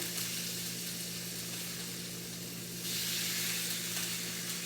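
Salmon pieces frying in a pan just after being flipped give off a constant, even sizzle and hiss over a low steady hum, swelling slightly louder partway through.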